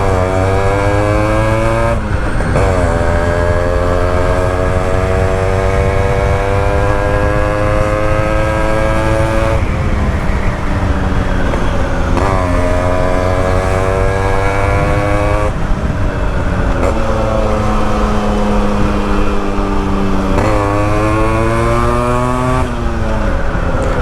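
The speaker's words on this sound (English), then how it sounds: "Now this motorcycle has a custom muffler, and it is very loud." Yamaha two-stroke motorcycle engine fitted with a loud custom muffler, revving up and down in repeated rising and falling sweeps, close and continuous throughout with no talking.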